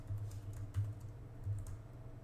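Keys clatter in a steady run of light taps on a computer keyboard, with a few slightly louder strokes standing out, close and alone with no talking.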